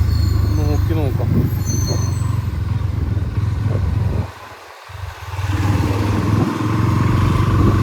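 A 2024 Bajaj NS160 motorcycle rides along a highway, its steady engine drone loud and close with wind rush, dipping briefly midway before building back up, with passing traffic in the background.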